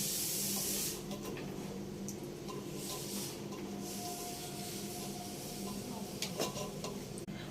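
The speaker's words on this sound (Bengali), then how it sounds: "মটনটা প্রেসারে সিদ্ধ হতে দিয়ে দিলাম। সিটি দিয়ে নিলাম।" A pressure cooker boiling mutton on the stove releases a loud, steady hiss of escaping steam that runs continuously, close by.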